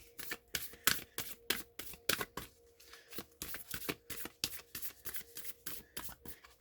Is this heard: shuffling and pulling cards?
yes